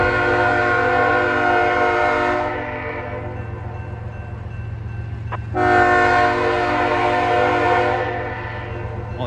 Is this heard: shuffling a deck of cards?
no